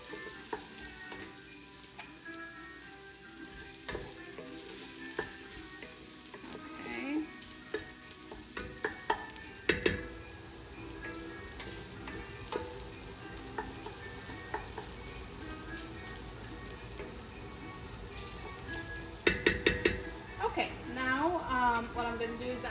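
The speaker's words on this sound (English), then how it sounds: "I'm just gonna fry this for a little bit, the ginger and garlic with the onions" Ginger, garlic and onions sizzle and fry in a pan, a low, steady crackle with occasional spoon stirs and clinks against the cookware, while a person talks over it.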